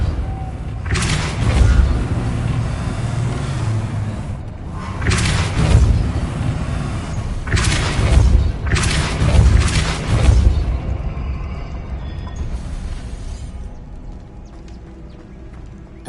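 Spell blasts in Hogwarts Legacy, a fantasy video game, land as several deep booming impacts spaced a few seconds apart over a low rumbling background that fades toward the end.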